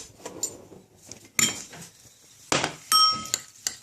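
A metal spoon clinks against a dish while a reheated vegan preparation is served, with a few sharp, bright taps and a ringing chime spaced irregularly over soft kitchen handling sounds.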